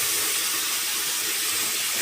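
Water runs in a steady, close hiss while vegetables such as beans, papaya, tomato, carrot and chili are washed, with no talking over it.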